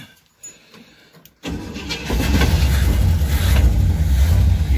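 A 1966 Cadillac DeVille engine cranks and catches after a quiet moment, then settles into a loud, steady, rumbling idle close by.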